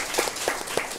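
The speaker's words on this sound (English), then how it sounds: "Let's have a round of applause for him." A quiz show audience gives a short, even burst of applause for a contestant. The clapping is dense and steady throughout a single second.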